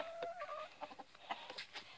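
Backyard laying hens, one of a small flock of three kept with roosters, clucking in short uneven bursts close by, with a few higher squawky notes mixed in.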